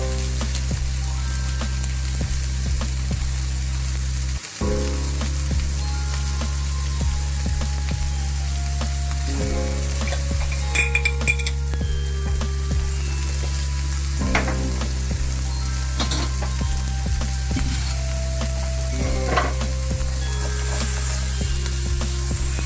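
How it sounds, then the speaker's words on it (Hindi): Vegetables sizzle steadily in a hot pan for macaroni prep, with scraping stirs and occasional clinks of a utensil against the pan throughout; no one talks. "ये हमारे वेजिटेबल्स फ्राई हो रहे हैं"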